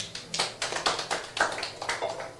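A small group at a toast gathering claps in a quick, loosely synchronized rhythm, a dozen or so distinct hand claps close by and moderately loud, with no talk over them.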